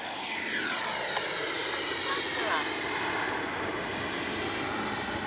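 A Flyfans Baltic Bees RC jet with afterburner flies at full throttle, its loud continuous turbine roar sweeping in pitch as it passes overhead, with no voices over the engine.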